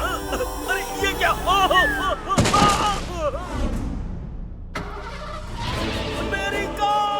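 A cartoon vehicle engine revs and pulls away on a village road, mixed with sharp bursts, clattering effects and background music, with voices speaking over parts of the scene.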